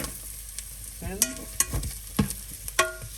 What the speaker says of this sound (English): we'll leave vegetables to saute for 2-3 minutes